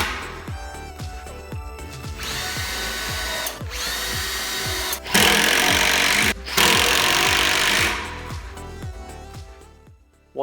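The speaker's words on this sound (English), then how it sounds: "I pre-drilled and screwed everything in place for some extra strength and support." A power drill drives screws into plywood banquette units, with repeated whirring bursts and rhythmic grinding of screws biting into wood, close and loud, pausing briefly between screws.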